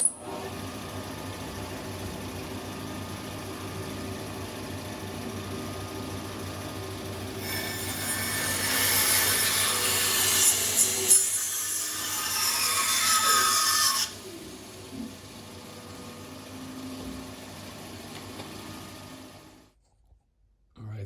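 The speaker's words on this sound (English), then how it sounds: "That's all the work I want to do on the bandsaw for the palm frond." A bandsaw hums steadily as it roughs out wood for a carved common loon on a palm frond, with a harsher cutting sound for about six seconds mid-way, then the motor runs on and winds down to silence.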